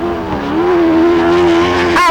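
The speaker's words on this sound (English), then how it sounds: "Your first place car has just spun out" An autograss race car spins out on the track, its engine whining loudly at a steady pitch before a sudden change near the end suggests the spin, with the drone continuing close by.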